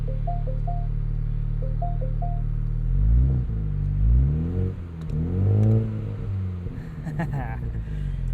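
A 2022 MINI Cooper John Cooper Works Convertible idles with a low rumble, then revs up in several rising surges, the exhaust growling loud and close before settling back.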